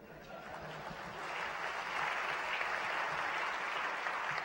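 A conference audience at a Cal Poly fall gathering breaks into steady applause, a dense wash of many hands clapping that builds in the first second and then holds evenly.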